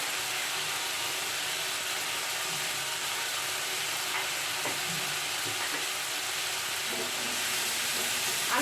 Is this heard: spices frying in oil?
yes